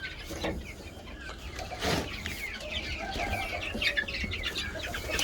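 Young guinea fowl chicks peep in a busy, soft chorus of high chirps, with occasional louder calls and a low background rumble.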